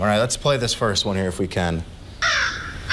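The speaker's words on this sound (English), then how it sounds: "It's a crow." Someone speaks, then a single harsh crow caw sounds near the end, loud and close.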